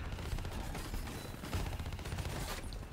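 Rapid automatic gunfire aimed at an enemy in Black Ops 3 co-op, a dense continuous rattle of shots at moderate loudness throughout.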